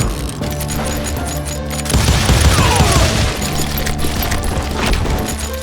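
Rapid gunfire from a crowd of hired gunmen in the Western shooter Call of Juarez Gunslinger, a dense continuous fusillade of overlapping shots and crashes under a steady game soundtrack.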